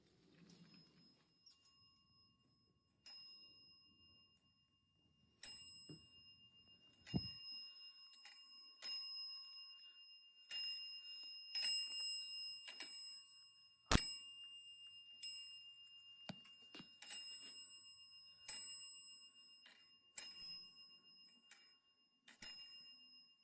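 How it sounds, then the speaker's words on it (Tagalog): A bright metallic bell of an old telephone rings in short irregular bursts, sharp strikes with ringing tones trailing off, alone in a quiet room. "Ang multong telepono ay tumutunog kahit walang kuryente."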